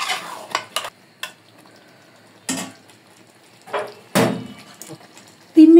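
A spoon stirs fried meat and green chilies in a kadai for a mung dal dish, with intermittent scraping strokes and soft sizzling. The strokes come in short bursts separated by quiet gaps, and a brief metallic ring sounds at the end.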